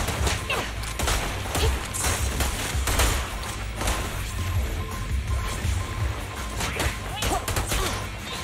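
Rapid bursts of gunfire and sharp impacts in a video game, running loud and continuous with thuds and crashes under a steady background score.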